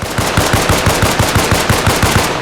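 A semi-automatic rifle firing in the Arma Reforger video game, a rapid, evenly spaced string of about fifteen loud, close shots with no pauses and no talking.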